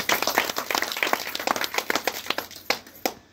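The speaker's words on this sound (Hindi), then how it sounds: "जोरदार ताली चाहूँ।" A crowd claps steadily, a dense patter of many hands that thins toward the end and stops.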